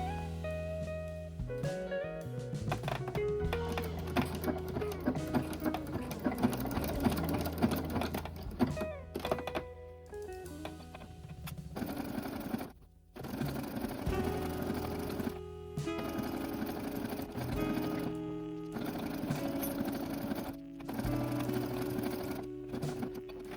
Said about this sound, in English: And then sew all the way down one, sew again on the other.